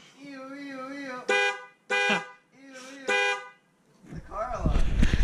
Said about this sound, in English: The car alarm.